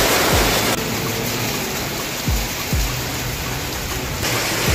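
Heavy rain pours steadily at a homestay in Purulia, a dense continuous wash of water noise with a few low thumps, close and fairly loud throughout.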